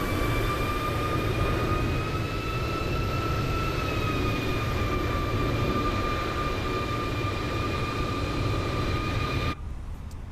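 An Airbus A321 engine in Microsoft Flight Simulator 2020, heard from outside, whines steadily with high tonal spool-up notes over a broad roaring hiss, loud and continuous, cutting off abruptly near the end.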